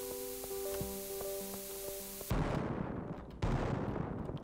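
Two booming blasts from cherry bombs going off in the Stardew Valley mines, each a sudden loud burst with a rumbling tail. Before them, steady game music plays.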